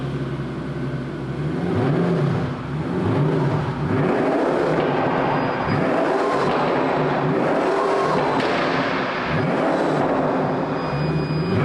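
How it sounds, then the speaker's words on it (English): Pagani Imola sports car engine droning steadily and loud from inside or close by, with rising and falling revs across the run and no talk. "Maybe we should just jump in and show what this car sounds like."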